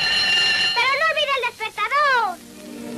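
An alarm clock rings shrilly in a Spanish Pikolin spring mattress advertisement, a bright warbling bell that rises and falls for about two seconds, loud and close, then cuts off.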